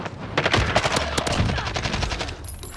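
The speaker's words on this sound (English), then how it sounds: "This is the action with the shotgun." Rapid gunfire from a video game weapon rattles off in a quick burst of sharp, close shots, then thins into scattered reports and a lingering hum.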